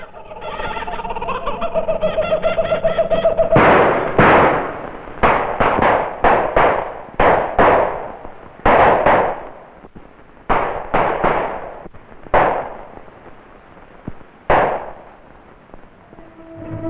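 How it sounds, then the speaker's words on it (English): Gunfire and an explosion at the jungle boundary of a rubber estate field: a rapid, irregular string of loud, sharp bangs, some in quick pairs, follows a brief stretch of steady tonal sound. "there's been some shooting and an explosion up on the jungle boundary of Field 38"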